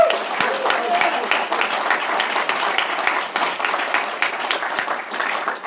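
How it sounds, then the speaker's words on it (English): An audience at an addiction-recovery talk applauds a team, a dense, steady crowd clapping that fills the whole stretch at close, even loudness with no voices over it. "Can we give these guys a round of applause"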